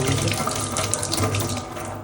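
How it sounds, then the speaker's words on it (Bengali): Tap water runs steadily into a sink as hands are rinsed clean after handling potatoes, a continuous close splashing flow with no pauses. "তো আমি এখানে একটু হাতটা ধুয়ে নিই"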